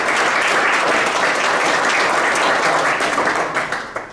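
Warm applause from an audience at a college signing event honoring an academy director, a dense steady clapping that holds for several seconds before tapering off at the end.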